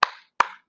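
Two sharp hand claps in a classroom, evenly spaced about half a second apart, close and crisp with silence between them.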